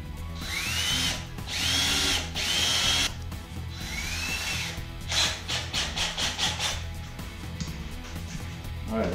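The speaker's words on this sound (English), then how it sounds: "I'm gonna just drill a hole in it with a smaller bit" An electric drill with a small bit whines in several bursts, its pitch rising as it spins up, then a run of short pulses as it bores into wood for a patio table.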